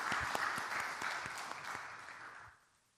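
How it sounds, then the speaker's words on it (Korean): A church congregation applauds, a dense patter of many hands clapping at moderate volume that fades out over the final half-second. "하나님께 영광의 박수를 올려드립니다."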